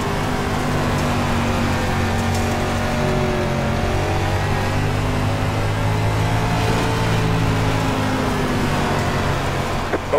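A limited late model race car on a dirt track at Volusia in the iRacing sim roars at steady high revs, a loud continuous engine drone with layered harmonic tones holding throughout, close and alone.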